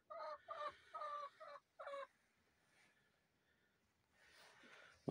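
A domestic hen sitting on a clutch of eggs gives a run of five short throaty clucks in quick succession, fairly close and clear, followed by quiet rustling and a soft breathy noise.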